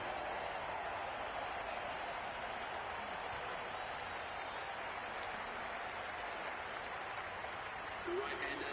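A cricket crowd at an IPL 2023 T20 match between Royal Challengers Bangalore and Chennai Super Kings applauds a batsman, steady, dense, distant clapping sustained throughout with a broadcast commentator's voice over it.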